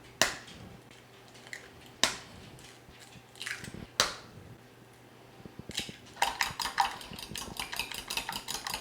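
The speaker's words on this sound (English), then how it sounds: "I'm also gonna crack and scramble 4 eggs." Eggs cracked into a bowl, four of them, then scrambled: a few sharp isolated cracks and taps, followed by a fast, steady clatter of whisking against the bowl near the end, close and fairly quiet.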